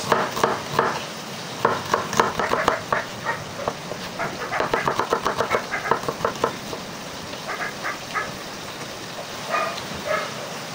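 Onions fry in a pan for a Filipino sinampalukan tilapia dish, a steady sizzle broken by repeated clacks and scrapes of a utensil stirring against the pan, close and without talk.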